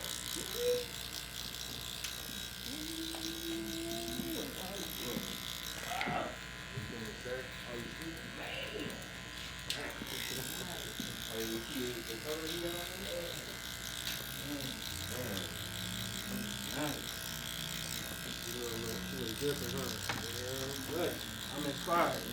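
Electric hair clippers buzz steadily through a haircut, dropping to the number one guard to soften the middle line, running continuously under near, constant talk from several people.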